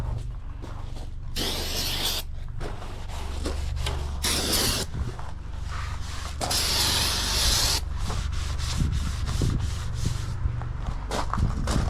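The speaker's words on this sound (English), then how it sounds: "I'll brake clean a little bit." Brake cleaner is sprayed onto a service truck in several hissing bursts of varying length, close and loud, between quieter handling and wiping noises.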